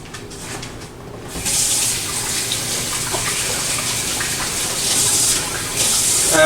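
A kitchen tap gushes steadily into a sink while hands are washed after seasoning fajita tomatoes and mushrooms, a loud continuous splash that starts abruptly and keeps running.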